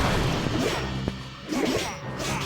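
Cannon being destroyed in the mobile strategy game Clash of Clans, a few crashing impacts and swooshing battle effects layered over dense game noise, fairly loud and continuous.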